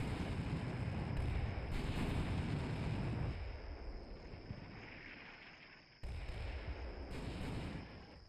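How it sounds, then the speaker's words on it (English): Artillery rounds landing in the Combat Mission Black Sea war game: faint, rumbling impacts in two bursts separated by a short lull, with distant booms and no talk. "I let the rounds come in for a few minutes before shifting the fire north towards the center of town"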